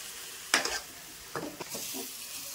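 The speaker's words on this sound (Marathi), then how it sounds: "उलटाणीच्या सहाय्याने ह्याला हलवणार आहे" A few scraping stirs of a spatula through chicken leg pieces frying in a pan, two short bursts of scraping over a low sizzle, fairly quiet and close.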